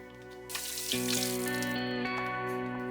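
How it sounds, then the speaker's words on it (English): Hands being washed under a running kitchen tap during cooking, a steady rush of water starting about half a second in and continuing close by over a sustained musical tone. "Ci laviamo le mani."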